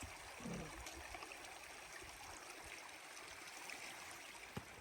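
Creek water flowing steadily along the middle fork of Boulder Creek, a constant broadband rush heard close and alone, with no voices.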